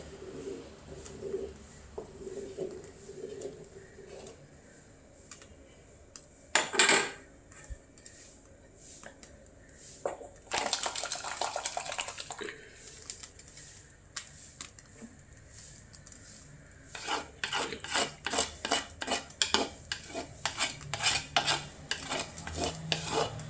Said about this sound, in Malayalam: പിന്നെ അത് വേറൊരു പാത്രത്തിനകത്തേക്ക് പകർന്നു